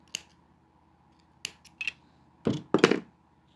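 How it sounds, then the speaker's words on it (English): Scissors snip fishing line for a beaded wallet: a few sharp, isolated clicks spaced apart, then two closer, louder cuts near the end, up close in a quiet room. "So you cut a new fishing line."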